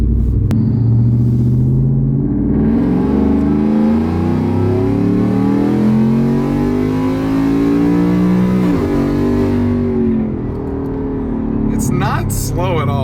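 A Ford F150 pickup engine revs steadily upward while held in a single gear, a loud, close, droning rumble that climbs in pitch for about ten seconds before easing off.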